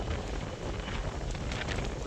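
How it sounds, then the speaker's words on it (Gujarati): Wind blows hard during a rainstorm in Rapar, Kutch, a faint, steady broadband rush of gusting air with no clear voices. "પવન જતો આવે."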